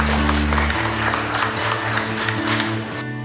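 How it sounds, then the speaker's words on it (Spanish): Applause from a seminar audience on hurricanes and earthquakes, greeting a meteorologist, a steady wash of clapping over a low musical hum that continues throughout. "Recibámoslas con fuertes aplausos."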